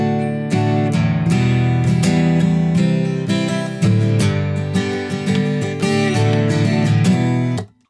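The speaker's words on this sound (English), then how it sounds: "Now this creates a progression that gives it a little more sad feel," Guitar strumming a 6-4-1-5 chord progression with a sad, minor feel, with close, loud rhythmic strums cycling through the four chords alone before cutting off.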